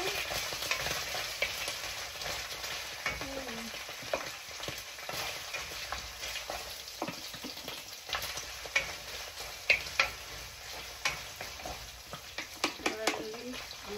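Garlic and onion sautéing in a pan for pinakbet, a continuous close sizzle broken by frequent scraping and clinking of a utensil stirring, with sharper taps toward the end.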